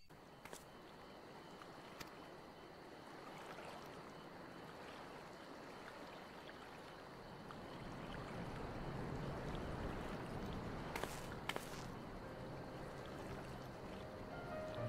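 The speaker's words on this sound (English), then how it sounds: "It helps me to remember the sway of the ocean when I close my eyes." Ocean water in Final Fantasy XIV Stormblood washes and swirls as a faint, continuous wash of waves, swelling slightly louder toward the end, with a few soft clicks and no talk.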